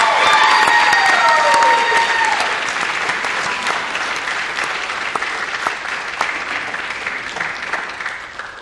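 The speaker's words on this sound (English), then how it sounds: "And I kind of just want to give Cynthia another round of applause." Loud applause from an audience at a KMMS event, dense clapping with some cheers, strongest at the start and gradually tapering off over several seconds.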